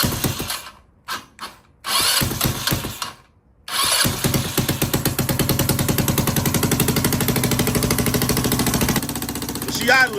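A Chinese-made ATV engine cranks in a few short bursts, then catches and settles into a loud, steady, close idle.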